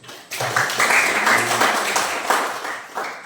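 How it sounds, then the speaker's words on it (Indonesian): A class of children in a classroom claps briefly together, a short burst of quick hand claps at moderate loudness that rises, holds and fades within a few seconds. "kita tepuk tangan sedikit dulu"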